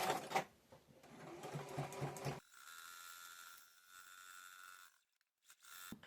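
Sewing machine stitching forward and back-stitching on a quilt, a close rapid mechanical whirring in bursts with short pauses between runs, no talking.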